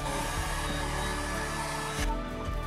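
A hair dryer blows steadily at close range to dry acrylic paint on a brush, giving a continuous loud whooshing hum with a brief shift in tone near the end.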